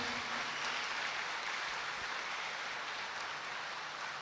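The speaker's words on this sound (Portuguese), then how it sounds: "Uma salva de palmas para os pais que educam" A church congregation applauds parents during a Sunday Mass homily, a steady, dense wash of many hands clapping that holds evenly throughout with no voices heard over it.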